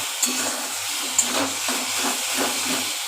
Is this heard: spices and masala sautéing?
yes